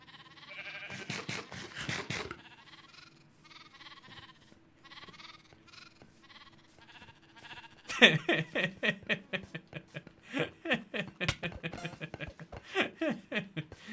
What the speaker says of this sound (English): Okay, let's get the sheep to do it.